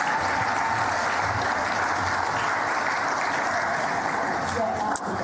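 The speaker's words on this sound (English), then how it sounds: "Should we have a round of applause for an entire table's worth of winners there?" A large crowd at a sports awards ceremony applauds steadily and loudly, the dense clapping holding at an even level the whole time, with a few cheers mixed in.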